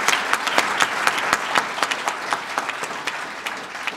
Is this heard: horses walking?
no